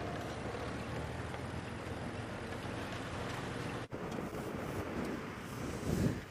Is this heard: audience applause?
no